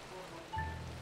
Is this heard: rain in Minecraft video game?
yes